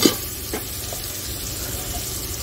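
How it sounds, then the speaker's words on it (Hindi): Cauliflower and capsicum frying with peas and tomatoes in a pan, a steady loud close sizzle with a few light stirring scrapes and no voices. "इन्हें भी अच्छी तरीके से फ्राई कर लेंगे।"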